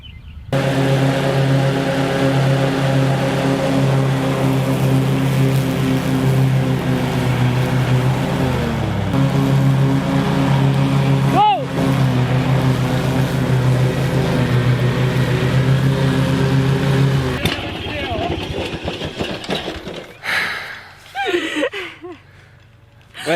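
A zero-turn lawn mower engine runs steadily while mowing stripes, its loud, even drone close by for most of the stretch, then it dips and drops away near the end.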